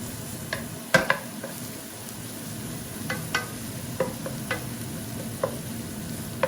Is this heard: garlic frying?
yes